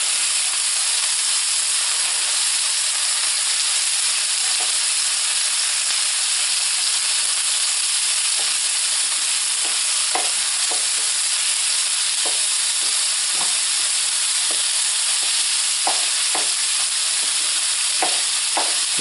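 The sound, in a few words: ground beef frying and being broken up in pan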